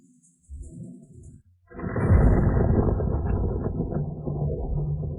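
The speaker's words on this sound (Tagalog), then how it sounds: "Siguro kulog lang." Thunder opens with a short low thud, then a deep, loud, rolling rumble that swells and keeps going to the end, with no voices.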